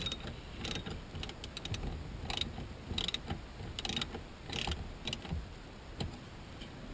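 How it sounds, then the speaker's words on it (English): Socket wrench ratcheting as a screw is tightened while fitting Hurst paddle shifters to a 2010 Camaro: rapid clicking bursts in repeated strokes, close up, with no talking. "use your socket wrench or whatever tool you have and tighten it."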